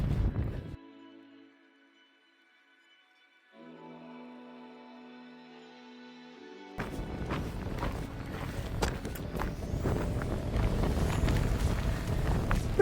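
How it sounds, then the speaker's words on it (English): Strong wind on a hillside hiking trail in Wales buffets the microphone in a rough, gusty roar that builds and stays loud after a quieter opening. "A bit windy up here."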